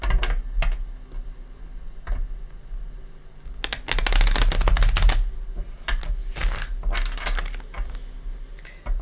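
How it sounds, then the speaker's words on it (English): Tarot cards shuffled by hand, with crisp riffling bursts and scattered taps and clicks, close and moderately loud. "Let's give this a couple shuffles."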